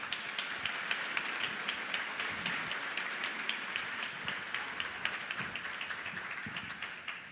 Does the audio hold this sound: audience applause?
yes